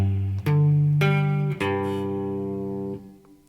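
Electric guitar power chords from the A part of a song, struck a few times, each ringing out with sustained harmonics before fading.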